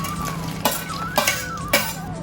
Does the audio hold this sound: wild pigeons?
no